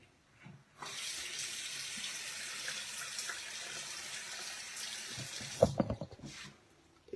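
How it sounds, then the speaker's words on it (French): Water runs steadily from a tap for several seconds as a facial cleansing brush is rinsed in clear water without any product, then the flow cuts off with a few splashes and drips. The sound is close and continuous. "Je la rince à l'eau claire, sans mettre aucun produit dessus."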